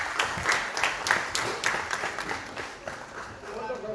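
Applause during a plenary session of Guinea-Bissau's National People's Assembly, after a budget proposal is presented: steady clapping from many hands fills the chamber, with voices mixed in underneath.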